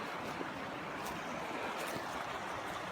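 A small, full creek flows in Scotland Creek, a steady broadband rush of running water heard close and alone, with no talking.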